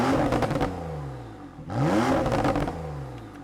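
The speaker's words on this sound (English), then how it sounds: "the burbles and the grunty sound that you get from the exhaust system" A Porsche 911 Carrera GTS with a 3-litre twin-turbo engine and sports exhaust in chrono mode, revved in neutral: two rising blips with a brief dip between, followed by gruff burbling as the revs fall, close and loud.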